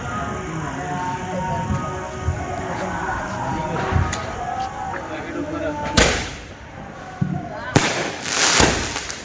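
Diwali sky shot fireworks exploding outdoors, a crackling backdrop with several sharp loud bangs, two big bursts standing out near the end, while people talk nearby.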